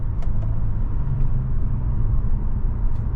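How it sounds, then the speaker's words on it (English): A 2023 Nissan Maxima SR sports sedan cruising down the road in sport mode with manual paddle shifting, heard from inside as a steady low road and engine rumble with no talk. "we are going down the road in this 2023 Maxima SR"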